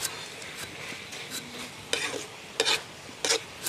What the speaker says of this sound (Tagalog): Nagluluto ang anak ko ng binagoong alamang.